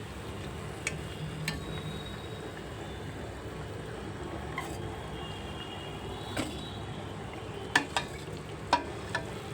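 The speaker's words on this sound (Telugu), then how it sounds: "ఇలా వేయించుకోవాలి" Bread pieces frying in a pan for bread halwa, a steady low sizzle throughout, with a few sharp clinks from stirring near the end and no talking.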